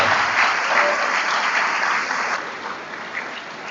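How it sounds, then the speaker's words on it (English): Sustained audience applause for the 2025 graduates at a commencement ceremony, a dense, even wash of clapping that stays loud throughout and eases only slightly toward the end. "So can we have one more round of applause for our graduates of 2025?"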